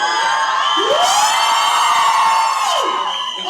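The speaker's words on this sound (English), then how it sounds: "I think we should give a round of applause for her" A crowd at a Bollywood film song launch event in Delhi cheers loudly, with high shrieks and whoops rising over a continuous roar, mostly excited screaming rather than distinct clapping.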